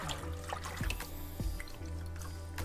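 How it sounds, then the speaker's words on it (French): Cyanotype paper is gently rubbed and rinsed in a tray of water, giving soft splashes and drips with a few small knocks under a quiet watery wash. "On lave tranquillement, on frotte tout doucement."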